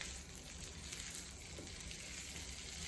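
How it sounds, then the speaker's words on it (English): Steady quiet sizzle of potatoes and other ingredients sautéing in a pan for aloo sukhi sabji, a continuous hiss without talking. "Keep saute at least 4 to 5 minutes. So all the ingredients are mixed in the potato."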